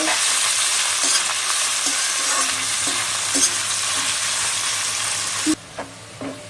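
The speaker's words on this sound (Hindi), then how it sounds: "अब इसमें हम प्याज तल लेंगे। तेज आंच पर ही तलनी है।" Onions frying in hot oil over high heat for a vegetable biryani, a loud steady sizzle with stirring scrapes and clicks throughout, cutting off abruptly near the end into a few isolated knocks.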